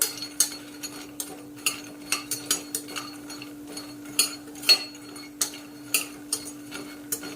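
Soya chunks slowly stirred as they fry over medium heat in a pressure cooker, with a steady run of light metallic scrapes and clinks from the spoon against the pot over a faint constant hum.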